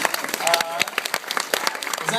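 Audience applause at a film prescreening Q&A in Chicago, with scattered individual claps and crowd sounds mixed with voices talking over it.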